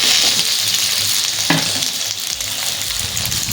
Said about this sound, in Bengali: তো ডালনা যেহেতু আলু দেব, সেই জন্য তেলের মধ্যে আলুগুলো আমরা ভালো করে ভেজে নেব।